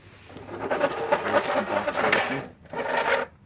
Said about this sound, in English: Okay, so I'm going to go ahead and unscrew these guys off.